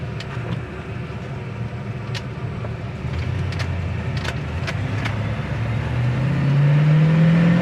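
A 1968 Chevrolet Impala with an automatic transmission and its numbers-matching original motor accelerates steadily, engine drone rising in pitch and loudness before an audible gear shift near the end, with no talk over it.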